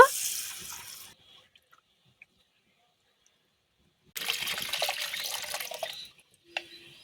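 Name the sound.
washing moong dal lentils with water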